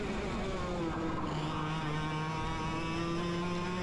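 Racing karts drone along a track, a sustained high-revving engine whine with shifting pitch as the kart drives on, steady and loud, with other karts racing just ahead.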